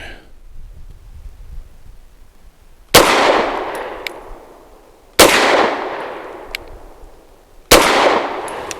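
Three loud, sharp gunshots from a Grand Power K100 Mk23 9mm pistol firing jacketed hollow point rounds at an outdoor range, evenly spaced a couple of seconds apart, each with a long echoing decay.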